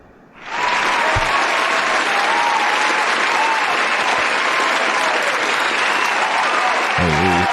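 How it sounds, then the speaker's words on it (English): Loud, sustained applause from a comedy club audience for a comedian, starting abruptly and holding steady throughout, with cheers mixed in and a horn-like tone near the end. "Let's get a clap for the Psyche"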